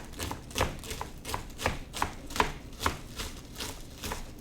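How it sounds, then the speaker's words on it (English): A knife chops kale finely on a board in a steady run of quick, crisp taps, close and fairly quiet, with no talking. "We can just chop finely."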